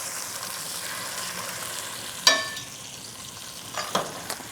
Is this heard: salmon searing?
yes